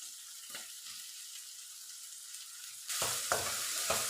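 Vegetables for a vegetable pulao are sautéed in a pan. A quiet sizzle with occasional stirs swells into a louder, fuller frying hiss near the end, punctuated by scraping strokes.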